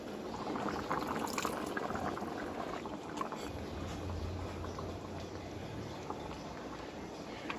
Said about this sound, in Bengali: এবারে ঝোলগুলো দিয়ে দেবো